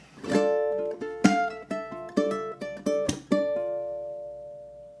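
Ukulele picking out the first measure of a song's chorus, a string of bright plucked notes and chords in a steady rhythm, close and clear, ringing out alone to a fading finish.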